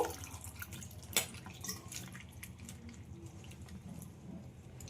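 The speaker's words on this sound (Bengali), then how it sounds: "দু তিনবার জল পাল্টিয়ে পাল্টিয়ে খুব ভালোভাবে ধুয়ে নেব" Cut pieces of bottle gourd are rinsed in water, with soft drips and splashes at a steady low level and one sharper splash near the start, close by and without voices.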